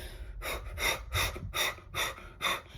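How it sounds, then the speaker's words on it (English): Six deep breaths in a steady rhythm during breathing-exercise practice, each a loud, close, airy inhale or exhale roughly half a second apart, with no talking. "you want to practice taking these deep breaths"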